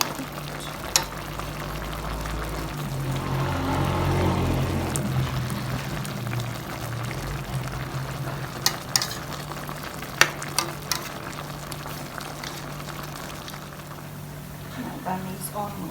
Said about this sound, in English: So see, guys, I just lightly fry them